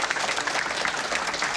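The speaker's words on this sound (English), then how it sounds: "Just give him a round of applause." Steady applause from a crowd honoring a speaker at a UFC 268 countdown gathering, dense, even clapping filling the short moment with no voices over it.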